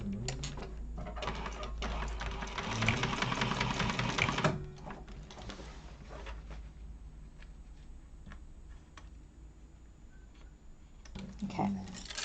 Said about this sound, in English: And then baste that seam open.